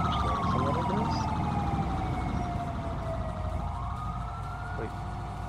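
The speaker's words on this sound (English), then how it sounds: "I hear sirens." Sirens wail in a GTA roleplay game scene, a steady rising and falling tone that stays loud over a low engine-like rumble for the full stretch, with a voice faintly under it.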